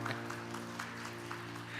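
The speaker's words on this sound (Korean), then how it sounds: "다시 한번 박수 부탁드립니다" Korean church congregation applauding during a Sunday service after a baptism, with soft steady clapping over a constant low hum from the room.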